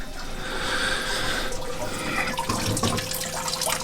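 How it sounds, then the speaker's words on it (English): A pump recirculates water in a home brewing setup, giving a soft, steady gush and trickle close by with a few clunks and splashes toward the end. "That started that pump round."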